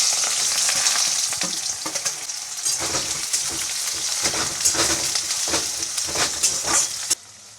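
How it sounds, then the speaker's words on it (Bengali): Chopped onions sizzle and crackle steadily in hot oil with bay leaves and cardamom, a close, dense frying hiss with stirring clatter, cutting off abruptly near the end. "এই যে এখানে বড় বড় তিনটে পেঁয়াজ আছে পেঁয়াজ কুচিটাও আমি দিয়ে দেব"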